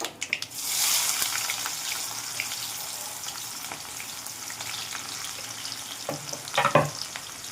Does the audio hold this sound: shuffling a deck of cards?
no